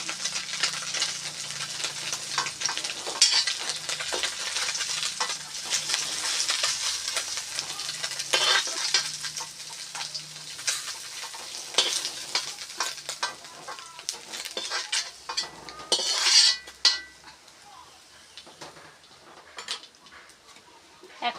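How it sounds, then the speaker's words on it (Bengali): Small fish frying in hot oil in a pan, a steady close hiss with scattered clinks and scraping of a utensil against the pan throughout. "আমার মাছ ভাজা হয়ে গেছে"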